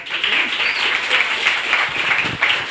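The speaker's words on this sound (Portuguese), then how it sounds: "a salva de palmas para Thalita." A room of conference attendees breaks into a round of applause for a speaker, sustained, fairly close clapping with a slight crowd murmur beneath.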